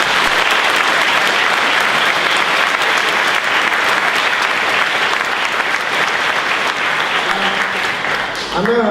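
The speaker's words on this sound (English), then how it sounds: "a round of applause for the Charity Committee." Staff audience at an internal briefing applauds the charity committee with loud, dense, continuous clapping from a large room that fills all nine seconds, a voice starting to speak over it right at the end.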